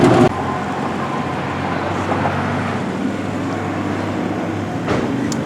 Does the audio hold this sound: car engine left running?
yes